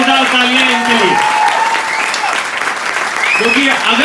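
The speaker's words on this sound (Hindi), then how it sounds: "तो एक बार जोरदार तालियां इनके लिए" An audience at a Vestige training session applauds the team leaders, loud sustained clapping with voices and a tonal sound running over it.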